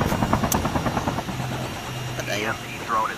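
A helicopter in a battle royale video game gives a steady low rotor drone with rhythmic chopping, fairly close, while people talk over it.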